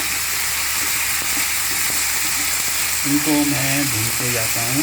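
Chopped cabbage and capsicum fry in a pan with a steady, loud broadband sizzle throughout, and a voice comes in over it during the last couple of seconds.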